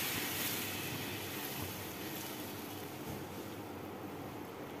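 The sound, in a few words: water being added to a pan for Maggi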